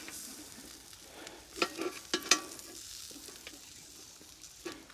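Shashlik in tomato juice sizzles softly in a pan, with a low steady crackle and a few brief sharper clatters of utensils near the middle, quiet and close.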